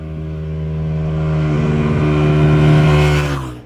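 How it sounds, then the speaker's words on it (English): An Aprilia RSV1000R's 1000cc 60-degree V-twin motorcycle engine fires up and revs close by, climbing steadily to a loud peak before falling away, with a deep throbbing beat and nothing else heard. "And that's before we fire up that 1000cc 60-degree V-twin motor."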